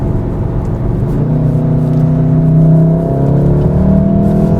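A Volkswagen Golf R with a DSG paddle-shift gearbox pulls hard, its engine note a loud, steady rising drone heard from inside the car, with no talk.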